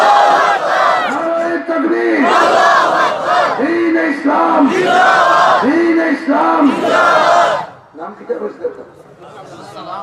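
A large crowd at a Sylheti Islamic religious gathering roars the takbir chant in loud, rhythmic unison, repeated call-and-response bursts filling most of the stretch before dropping to scattered voices near the end.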